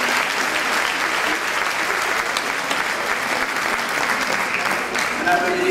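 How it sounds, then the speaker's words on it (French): An audience at an equestrian festival in Maisons-Laffitte breaks into sustained, dense applause, loud and steady from start to finish. "Je demande de l'applaudir"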